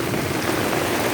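Heavy rain pours down in a dense, steady hiss, loud and close, running unbroken from start to finish with no voices.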